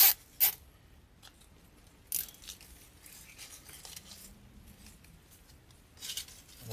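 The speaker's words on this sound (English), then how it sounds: "So we're just zip tying these together." Plastic zip ties being pulled tight while joining pieces of a grapevine wreath, heard as a few sharp ratcheting zips at the start, around two seconds and near the end, with quiet handling between.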